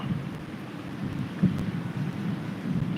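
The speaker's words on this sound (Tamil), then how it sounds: "அந்த மின்னலுக்கு இடிக்கிற இடியை பாருங்கள்" Low thunder rumbling on through approaching rain, a steady deep roll with one slightly stronger swell near the middle, heard from a distance with no voices.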